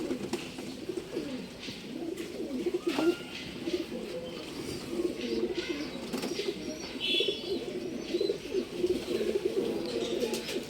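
Pigeons offered for sale in pairs coo in soft, repeated throaty murmurs close by, with a few brighter chirps and faint background noise, and no talking.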